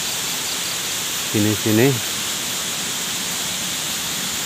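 A river stream flowing beside rice paddies gives a steady, loud rushing hiss that runs unbroken the whole time, with a brief spoken phrase rising over it midway.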